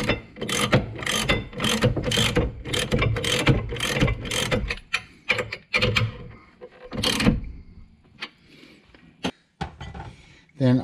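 A hand ratchet tightens brake caliper bolts on a C5 Corvette, with quick repeated clicking strokes up close, then scattered metallic clunks and handling noises.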